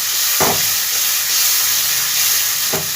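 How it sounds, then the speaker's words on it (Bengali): Ginger, tomato and chili spice paste frying in a pan, a steady loud sizzle and hiss with two brief thumps of stirring, no voices. "এই মশলাটা দিয়ে দিলাম দিয়ে ভালোভাবে কষিয়ে নেবো"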